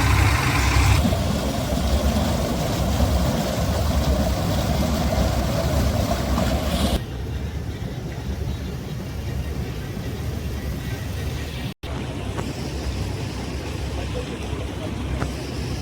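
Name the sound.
engines running pumps to drain water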